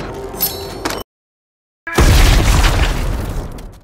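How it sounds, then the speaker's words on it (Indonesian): A pineapple grenade detonates in the film Wrath of Becky: a short sound cuts to silence, then a loud, close explosion bursts in and roars and rumbles on, slowly fading, with no voices. "Padahal, saat ini Anthony sedang Becky siapkan di depan rumah dengan granat nanas di mulut dan siap untuk diledakkan."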